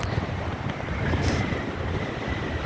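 A strong storm wind blows along the Ihasalu bay shore in Estonia, a dense, constant roar of gusts and microphone buffeting with surf underneath, loud and unbroken, no voices.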